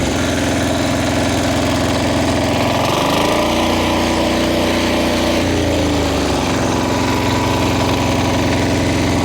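A Motor Sich walk-behind tractor's engine runs loud and close in a higher gear, a steady throbbing drone that deepens and rises in load for a few seconds mid-clip before settling back to its even running note.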